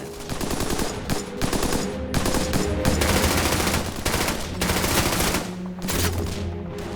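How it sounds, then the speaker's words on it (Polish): A WWII machine gun fires sustained rapid bursts in a forest battle at Hürtgen, loud and dense with brief gaps between volleys, heavy rattling gunfire filling the whole stretch. "pierwszego karabinu maszynowego Delgado ustawia broń i puszcza serię."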